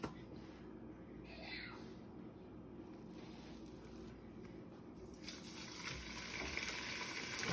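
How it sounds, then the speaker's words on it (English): Hot Italian sausage sizzles in a soup pot for a copycat zuppa toscana, a soft steady frying hiss that swells louder toward the end, with no voices over it. "You want to hear a nice sizzle in the pot,"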